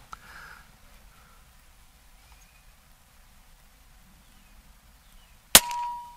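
A single sharp shot from an Air Venturi Bullpup .22 air rifle cracks out near the end after near silence, followed by a brief metallic ring.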